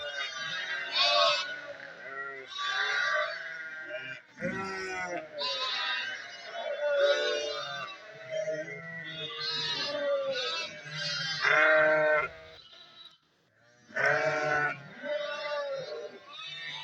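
Many sheep and lambs bleat over one another in a noisy chorus, loud and close, with brief pauses between bursts.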